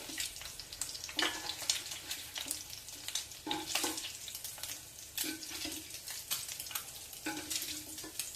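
An egg frying in a pan for a Telugu garlic-chili egg dish crackles and sizzles steadily and close, with bursts of stirring scrapes and no talking.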